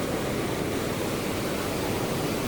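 River water flows past steadily, making a dense, even rush close to the microphone that never pauses or changes.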